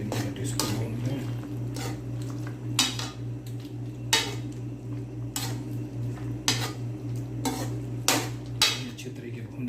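Ginger garlic paste being roasted and stirred in a pan for chicken karahi, with sharp spoon scrapes and clinks at irregular intervals over a low steady hum, close and prominent.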